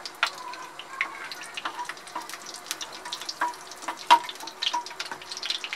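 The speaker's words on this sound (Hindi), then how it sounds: "इसको हल्का सा मेल्ट हो जाने देंगे और इसमें अब हम डाल देंगे इलायची और लौंगे।" Cardamom pods and cloves drop into melting ghee and crackle in quick, uneven pops and soft sizzles, fairly close and moderately quiet, with no voices.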